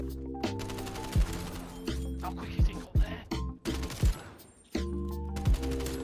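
AK-74U automatic fire in the video game Call of Duty: Cold War, loud sustained bursts broken by short pauses, with sharp impact thumps landing between the strings of shots.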